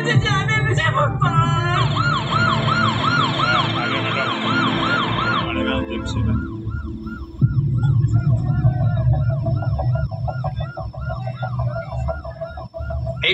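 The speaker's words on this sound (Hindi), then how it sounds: "सर ट्रैफिक में एम्बुलेंस फंसी है" An ambulance siren wails loudly in rhythmic rising-and-falling cycles amid heavy traffic, its pitch shifting midway as it continues over a dense rumble of engines and street noise.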